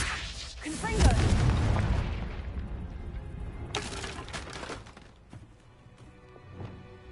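A Confringo blasting spell in Hogwarts Legacy bursts into a loud booming explosion, followed by a second sharp blast and fading rumble, with speech present in the clip.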